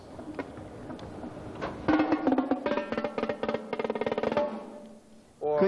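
Mallets strike pitched marching percussion at a percussion seminar: sparse taps build into a fast, dense run of bright strokes, then a pause and a final hit, loud and close with no speech.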